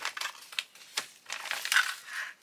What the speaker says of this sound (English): Cut the top of the bag off.